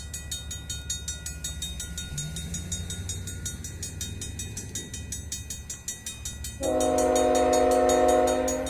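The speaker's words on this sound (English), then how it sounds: "Our train's pulling in," A CN Rail train pulls into Benito, Manitoba, on the Preeceville Subdivision: a steady rumble of rolling cars builds, then a loud, sustained multi-tone horn blasts up close over the last two seconds.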